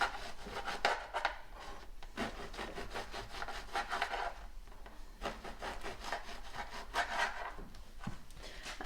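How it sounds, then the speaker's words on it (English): A knife saws back and forth through a loaf of French bread, cutting it into slices about an inch thick; close, rasping, crusty strokes repeat in steady bursts with brief pauses between cuts, alone without talk. "So I'm just going to cut some French bread into about 1-inch slices"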